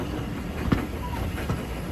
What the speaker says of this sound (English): as we approach the Foxfield Railway station